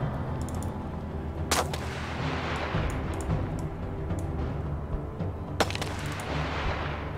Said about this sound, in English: Basically what happens here is that the sniper shoots.